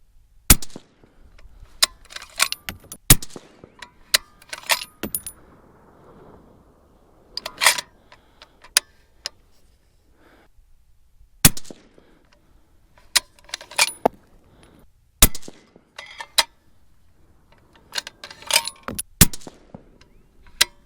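Suppressed rifle shots through an AB Raptor 6 lightweight titanium suppressor, a dozen or so sharp reports at irregular spacing, some in quick pairs, with quiet gaps between and no voices.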